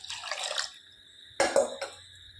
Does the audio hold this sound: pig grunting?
no